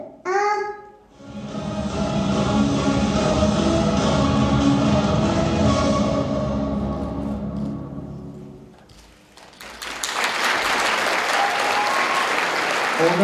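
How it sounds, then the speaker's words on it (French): A live audience claps loudly and steadily for several seconds. The clapping dips briefly, then surges back, with a few voices at the start. "On applaudit bien fort Eline de Guilloiseau."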